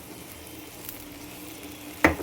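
Water with coriander coming to a boil in a pan while rava balls are being cooked, giving a faint, steady sizzling bubble with a brief sharp clatter near the end.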